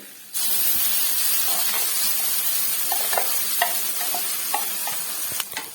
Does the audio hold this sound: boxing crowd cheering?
no